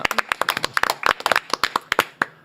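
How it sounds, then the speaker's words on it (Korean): A small studio audience on a Korean talk show claps to welcome a guest, distinct close hand claps in a quick irregular patter that stays steady and moderately loud throughout. "바로 군인권센터의 임태훈 소장님 박수로 맞이합니다"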